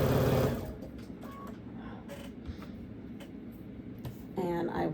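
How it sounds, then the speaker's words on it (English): A sewing machine stitching quilt fabric for a baby quilt, a steady low mechanical whir running under a woman's speech, bracketed by louder bursts at the start and end. "and I will sew this up"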